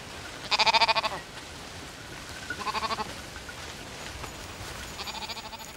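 Sheep from a flock sheltering in woodland bleat in three separate bursts, a loud wavering cry first and then two softer ones, over a steady hiss of wind and weather.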